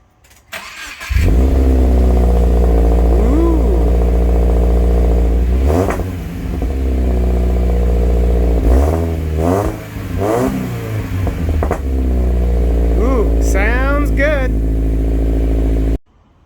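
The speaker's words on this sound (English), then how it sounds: "we've got the Nameless executive axle back with the single muffler installed, and we're going to do the maiden start" A 2022 Subaru Crosstrek fitted with a Nameless executive axle-back exhaust with a single muffler fires up for the first time, then settles into a loud, steady rumble broken by several sharp revs that rise and fall.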